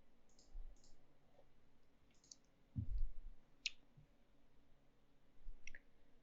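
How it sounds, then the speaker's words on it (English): Sharp, faint computer mouse clicks come in a few scattered taps over a quiet room background, with a soft low thump in the middle, and no talking. "I'm just going to pull it into Postman by clicking the Run in Postman button"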